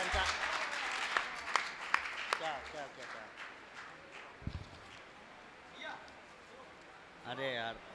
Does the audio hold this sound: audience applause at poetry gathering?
yes